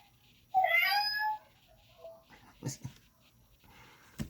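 A drawn-out cat meow plays back through a small smart speaker, followed by a few softer bumps and short noises.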